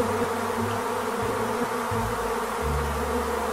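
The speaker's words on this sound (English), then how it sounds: "Bees!" A steady, dense insect buzz of many bees, loud and continuous, with low droning tones wavering underneath throughout.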